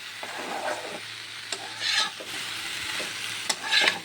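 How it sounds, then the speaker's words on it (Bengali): Cut taro pieces being stir-fried in a pan over a lowered flame, with a steady sizzle and soft scraping strokes of a spatula at intervals, close by with no talking. "এখন আমি কষাবো ভালো করে, আঁচ কমিয়ে দিব, ভালো করে কষাবো।"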